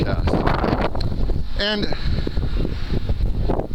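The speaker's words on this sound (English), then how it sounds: "It's windy, so bear with me." Strong wind gusts blow across the microphone beside the ocean on an overcast day, a steady loud rumble and rush throughout, with someone talking over it.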